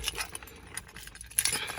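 A bunch of keys jangles and clinks in a hand during a Chevy Tahoe or Suburban truck repair, coming as short, irregular metallic rattles close by with no talk.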